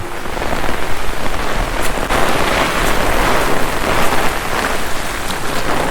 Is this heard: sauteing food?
no